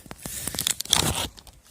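Adhesive tape being pulled and torn off a roll while packing a parcel, a crackling, ripping stretch of about a second with a few sharper tears, close and alone.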